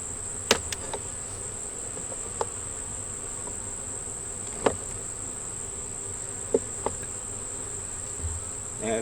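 Honeybees buzz steadily around a hive frame of an empty honey super, a continuous high insect drone with a few faint clicks and taps, no voices.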